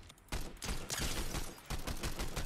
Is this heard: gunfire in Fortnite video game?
yes